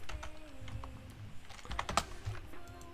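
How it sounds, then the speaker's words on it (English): Someone types on a computer keyboard, soft rapid key clicks at close range with a sharper tap near the middle, low-level with faint background hum and no talk. "type in time remaining"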